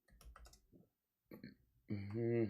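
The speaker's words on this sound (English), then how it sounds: "I'm typing." Quick, light clicks of a computer keyboard pattered for about half a second, then a short pause, then someone speaks over the end.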